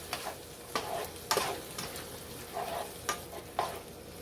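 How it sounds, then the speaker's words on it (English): Canned tomato sauce going into a hot pan for Greek baked ziti, over a steady low sizzle with a few scattered soft clinks and scrapes. "And you're going to put in a 8-ounce can of tomato sauce."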